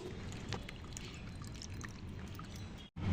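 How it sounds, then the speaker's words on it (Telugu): Tamarind pulp pours through a filter, giving a steady, close watery rush and trickle that runs almost unbroken before a brief drop-off near the end. "ఈ చింతపండు గుజ్జుని మనం ఫిల్టర్ చేసుకుందాము"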